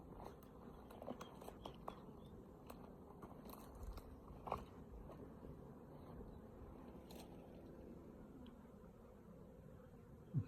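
Bees buzzing around a spare hive box where a swarm has moved in, a faint continuous hum with scattered brief clicks and taps, quiet and close.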